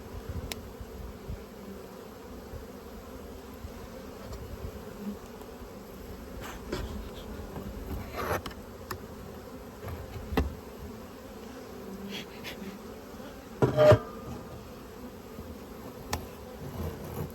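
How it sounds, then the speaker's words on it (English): Bees buzz steadily around the listener for a long stretch, a low droning hum with occasional louder passes as individual insects fly close. "Bees are landing all over me."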